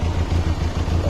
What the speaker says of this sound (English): When the vehicle was in idling condition like as it is right now